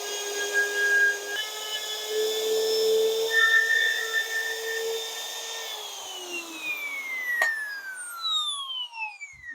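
Wood router with a router guide cutting through wood, a loud whining motor tone that holds steady, then pitches up and tails off as the cut ends.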